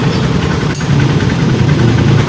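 A Honda TMX Supremo motorcycle engine runs steadily after a pulser replacement, a loud, continuous low idle rumble close to the microphone with no talk.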